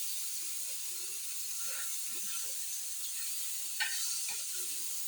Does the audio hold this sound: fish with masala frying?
yes